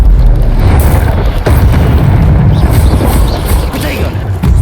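In Hogwarts Legacy, the Incendio fire spell is cast amid combat: loud, deep whooshing booms and fiery bursts rumble repeatedly over a dense, noisy background.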